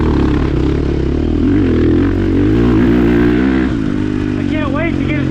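A 2022 KTM 450 SX-F Factory Edition motocross bike engine revs loud and close on a track, rising and falling in pitch with a sustained buzzing drone and a quick high rev near the end.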